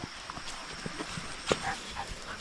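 Two dogs, Bingo and Matthew, out on a farm for exercise, give a few faint, distant yips and short barks scattered over quiet outdoor background.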